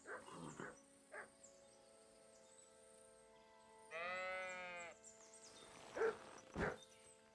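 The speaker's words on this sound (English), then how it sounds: "This must be the lost ram." Sheep bleat a few times in Kingdom Come: Deliverance, one long wavering bleat in the middle and shorter calls after, with electronic game-like tones in the background.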